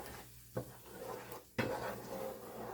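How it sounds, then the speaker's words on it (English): A spoon stirs tomato, basil and garlic pasta sauce in a pot over medium-low heat, making two distinct scraping strokes against the pot over a faint, steady background, nearby and quiet, with no voices. "pasta sauce. Give that a stir."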